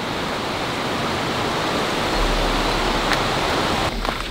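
A mountain stream rushes through a ravine with a steady, dense wash of water noise that swells slightly partway through and is heard alone.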